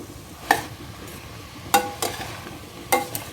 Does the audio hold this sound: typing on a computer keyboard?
no